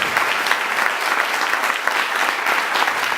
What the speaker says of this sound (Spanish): Dale un aplauso a Dios bien fuerte, por favor, porque Él se lo merece.